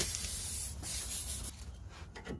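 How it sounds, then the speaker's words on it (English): Close, sustained hiss of lubricant sprayed from an aerosol can onto a Honda Jazz hand brake cable clip, two short bursts with a brief gap between them. "Just going to apply some lubricant on it."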